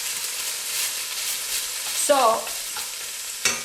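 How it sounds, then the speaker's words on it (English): Fresh green beans sautéing in oil in a pan for Greek fasolakia with potatoes, a steady soft sizzle with stirring scrapes, and one short spoken word partway through. "Now I got the beans on with the oil, and they're sauteing for about, I would say about 5 minutes"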